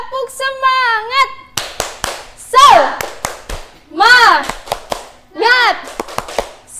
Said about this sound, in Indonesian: kita tepuk semangat dulu biar nggak loyo, lemes dan lain sebagainya